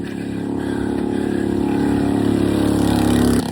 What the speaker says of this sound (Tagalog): Yung motor nga, hirap pumahon eh.